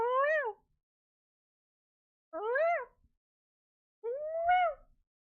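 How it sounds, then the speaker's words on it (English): A cat gives three distinct, clear meows, spaced about two seconds apart, each rising and then falling, close and loud, with silence between them. "Meow."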